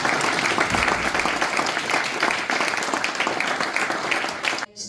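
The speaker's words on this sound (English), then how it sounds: "give them a round of applause and say congratulations" Audience applause for a fourth-place finisher at an evening awards announcement, steady dense clapping throughout, loud and close, cutting off abruptly at the end.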